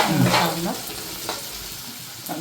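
Cockle meat roasting in a pan for a Kerala-style roast, a steady sizzle with an initial clatter of stirring and a few brief scrapes, close and moderately loud with no talk.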